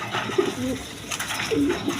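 Big Peshawari Lahori pigeons coo in two short rolling bursts close by, a low throaty call repeated after a brief pause over a soft background hum.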